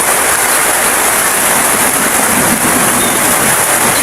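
Steady, heavy rain pours down close by, a dense hiss with a faint low rumble of thunder rolling underneath.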